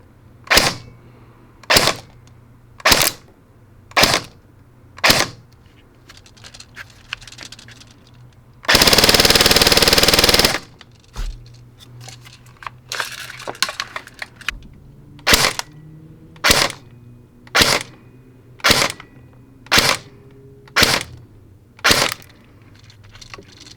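Airsoft rifle shots from a KWA EVE fired one at a time through a chronograph, about a dozen sharp, loud cracks spaced evenly with a long burst of noise in the middle, no voices.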